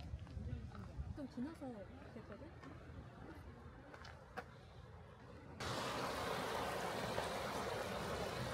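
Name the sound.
stream water flowing in Yonghyeon valley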